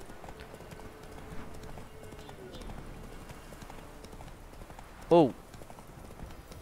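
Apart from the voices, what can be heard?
horse walking in The Witcher 3 video game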